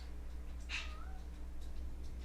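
A domestic cat gives a single short meow near the microphone against a quiet indoor background hum.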